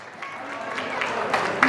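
Audience applause at a congratulatory celebration, a steady patter of clapping that swells slightly toward the end, with voices talking over it.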